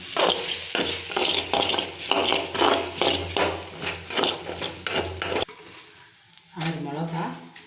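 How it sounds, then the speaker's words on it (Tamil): Ginger sautés in a pan for a spicy ginger thuvayal, a loud sizzle mixed with rhythmic scraping and clinks of a metal spoon against the pan, then a quieter stretch with a brief low sound near the end. "இந்த இஞ்சி நல்லா வதங்கணும்."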